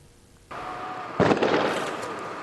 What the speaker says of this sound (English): emergency services and the Defence Force detonating an unstable chemical in a South Dunedin car park this morning